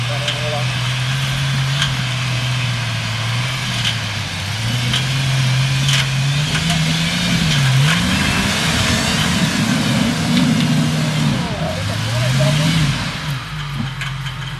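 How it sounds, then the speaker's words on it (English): A Jeep engine labours up a rocky off-road hill trail, a loud close drone rising and falling as the throttle changes, with people talking over it. "Phil, do you want to see if your Jeep can make it up it?"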